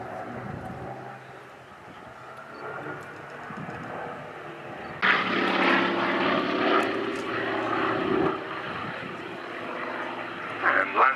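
A Royal Navy Sea Fury warbird flies past at a Duxford airshow, its piston engine droning from a distance before a louder, closer roar builds in the second half.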